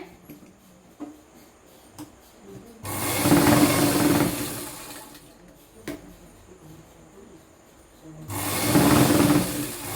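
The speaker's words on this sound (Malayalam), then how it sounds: "രണ്ട് സ്റ്റിച്ച് കൊടുക്കണേ" Sewing machine stitching palazzo pants, two bursts of steady motor whir with needle clatter, one from about 3 to 5 seconds and another near the end, separated by quiet handling sounds and light clicks.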